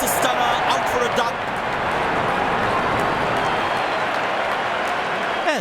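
Cricket stadium crowd roaring after a wicket in a South Africa versus India match, a dense sustained cheer and clapping filling the whole stretch with a commentator's voice talking over it.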